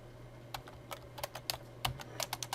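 Fingers type on a computer keyboard during a classroom lecture, producing soft, irregular clicking keystrokes that come in short bursts over a steady low hum, without talk.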